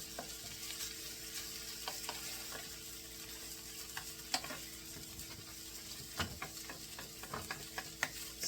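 Leftover meat from the previous night warming in a pan for shepherd's pie with beef, producing a quiet, steady sizzle with intermittent clicks and scrapes of stirring.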